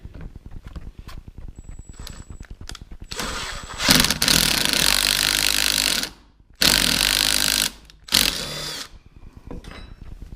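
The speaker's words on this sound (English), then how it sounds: "ran the tap through both holes" A power drill fitted with a 3/8 shank adapter, a socket and an extension runs a tap through two holes, in loud bursts with brief pauses in between and no talking.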